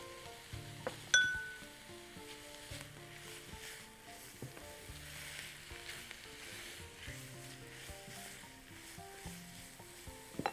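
Minced meat cooking in a pan, giving a faint, low sizzle with scattered clinks and scrapes of a utensil against the pan, quiet and without speech.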